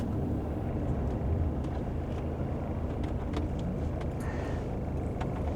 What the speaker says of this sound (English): Busy traffic going through this little place, but it looks nice.